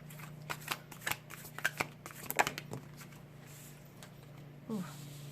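A deck of tarot cards is shuffled up close in several quick riffling bursts, soft and papery, with a quiet room hum underneath.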